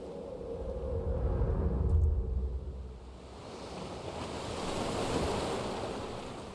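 Ocean waves washing onto a beach in Death Stranding, a broad rushing surge that swells, recedes and builds again, with wind noise, near and moderately loud, no talking.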